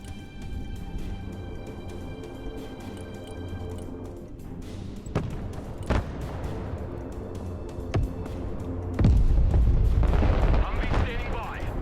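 Artillery and direct fire in the video game Broken Arrow: sharp distant gun reports and booming shell impacts scattered over a steady mechanical hum, growing into a heavier, louder barrage near the end, with radio-style voices talking.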